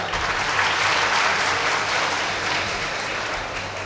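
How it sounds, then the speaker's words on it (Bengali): A crowd at a RAB town hall meeting in Rajshahi claps in sustained, dense applause. The clapping stays even and full throughout, loud and close, with no voices standing out. "আমরা করতালি দিই একটা"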